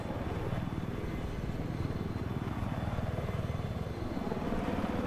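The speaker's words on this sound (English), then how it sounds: "Losco in the helicopter engaging Money Cube. Let's see how this helicopter fight goes down." A video-game helicopter drones with a loud, continuous rotor chop and engine roar during a Major Division quarter-final match. The sound stays steady and close throughout, with no speech over it.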